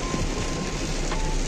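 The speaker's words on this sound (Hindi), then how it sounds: "बारिश इतनी भयंकर है, काली घटा छाई हुई है" Heavy rain pours steadily during a storm over flooded farm fields under dark clouds, a dense, continuous wash of noise that stays loud and even throughout with no talking.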